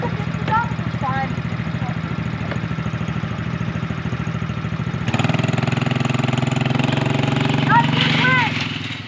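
A four-wheeler engine idles and runs with a steady low rumble and clatter while hauling camping gear outdoors, getting slightly louder midway, with people talking over it throughout.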